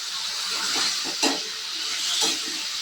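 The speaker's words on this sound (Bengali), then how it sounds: "যে আলু আমার ভাজা হয়ে গেছে, এবার মশলাটা দিয়ে দেবো।" Fried potatoes sizzling and hissing in a pan as spices are added, with a steady hiss and faint scraping stirs.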